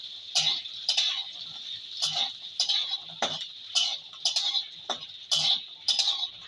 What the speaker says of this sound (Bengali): এপিট ওপিট করে নেড়ে দেবো।